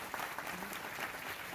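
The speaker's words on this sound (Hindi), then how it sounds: "इस पर तालियां बहुत जोरदार होनी चाहिए" Audience applause at a school citizen awareness program, a dense, steady clatter of many hands clapping together, moderately loud throughout.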